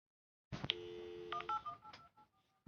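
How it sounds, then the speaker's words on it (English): Incoming phone call tones on a computer during a coding session, a short run of electronic beeps and stepped tones that fade out over about two seconds, fairly faint, with nobody talking. "Oh, I got a phone call."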